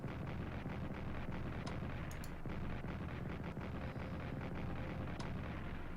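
Artillery bombardment in the World War I strategy game Strategic Command, heard as a dense, continuous rumble of shelling with scattered sharper bursts, steady and fairly loud throughout with no talk.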